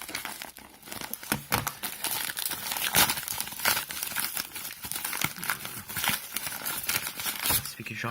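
A package is unboxed by hand, with constant close crinkling and crumpling of paper broken by sharper tearing rips, and someone talking now and then over the noise.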